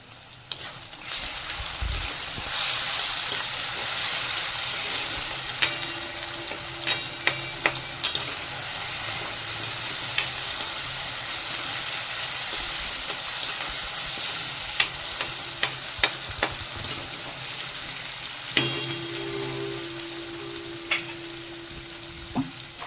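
Garlic-chili paste frying in a pan for a karela dish, a continuous crackling sizzle with scattered sharp pops and spoon taps as it is stirred, close and fairly loud.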